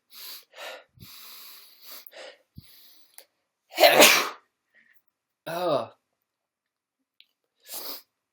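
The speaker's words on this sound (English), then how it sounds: "I'm going to sneeze." A single loud, close sneeze bursts out after some quiet murmured speech, followed by a short sniffly vocal sound and a faint breath.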